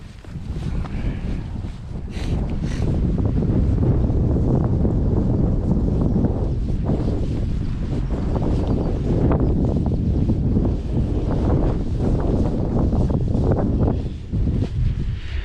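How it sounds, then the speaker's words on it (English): Steady, heavy wind buffeting the microphone, a loud continuous low rumble with gusty surges throughout, with no voices. "Here it is windy, so you might get some wind sound."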